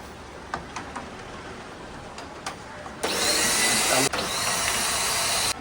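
A few soft clicks, then a cleaning machine's motor switches on with a loud, steady whine and rush, briefly dipping before running on.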